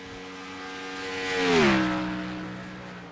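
A race car in a racing video game at The Glen sweeps past on track, its engine note swelling to a loud peak and then dropping in pitch as it pulls away, with no voices.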